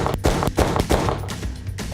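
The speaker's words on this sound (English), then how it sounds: "We're going to have 4 seconds to shoot 8 targets." Rapid gunshots fired at a row of targets on an outdoor shooting range, a quick string of sharp close cracks spaced a fraction of a second apart, about eight shots fired in under two seconds.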